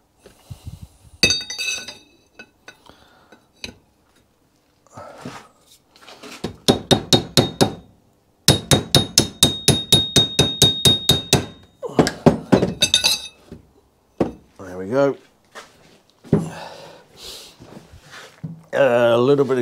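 A hammer taps a Royal Enfield bobber's girder fork part into place: bursts of rapid, ringing metallic strikes, loud and close, in quick series separated by pauses, with some handling clatter.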